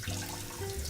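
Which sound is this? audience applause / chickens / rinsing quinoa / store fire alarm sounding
rinsing quinoa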